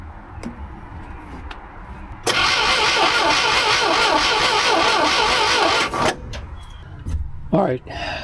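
The 800's engine cranking hard without catching: a loud, rhythmic starter churn of about three and a half seconds, close by, cutting off abruptly, followed by faint knocks and clicks.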